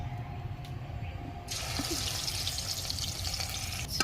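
Rohu fish frying in hot oil for a Bengali fish curry: after a brief quiet moment a soft, continuous hissing sizzle starts and keeps going at a low level.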